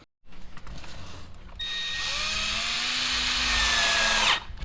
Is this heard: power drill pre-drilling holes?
yes